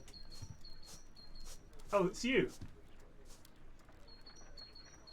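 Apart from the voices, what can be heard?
great tit singing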